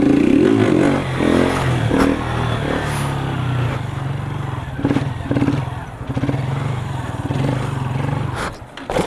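A motorcycle doing wheelies revs hard and close, its engine roaring and rising in repeated bursts with some clatter along the street.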